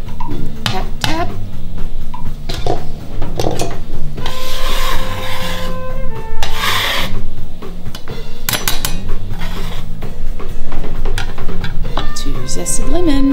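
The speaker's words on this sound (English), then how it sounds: "Going around the whole outside of the lemon, that way you get all the zest, all the good flavor, and none of the bitter flavor." A lemon is rubbed against a grater to remove its zest, giving repeated scraping rasps over about thirteen seconds, mixed with clinks of kitchenware and brief taps.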